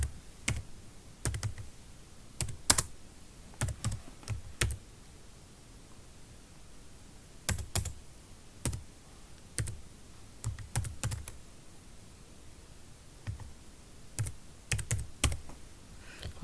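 Fast bursts of clicky keystrokes on a computer keyboard as a search is typed in a web browser, close and clear, with short pauses between runs and no talking.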